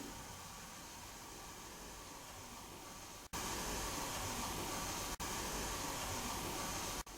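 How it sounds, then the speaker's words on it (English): Steady hiss of white noise static during a paranormal investigation, faint at first, then jumping louder with a few brief dropouts. "Just all white noise."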